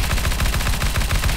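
Rapid automatic gunfire from a CS:GO match, a loud close burst of evenly spaced shots repeating quickly through the whole short moment, with no voices.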